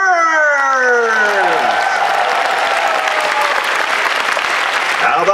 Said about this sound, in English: And now put your hands together for Mr. Bernie Burns.